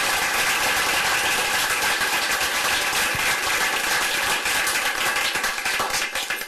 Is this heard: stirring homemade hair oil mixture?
no